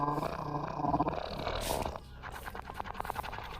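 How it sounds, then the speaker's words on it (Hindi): A dog growls low and rumbling, then breaks into rougher, pulsing vocal bursts, loud and close, with no talk over it. "उसके पीछे बैठा हुआ कुत्ता उसे देखकर ज़ोर ज़ोर से भौंकने लगा।"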